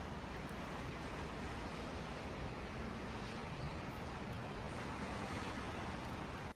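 Ocean waves wash continuously against a cruise ship, a dense, steady roar of surf and wind noise that holds evenly throughout before cutting off abruptly at the end.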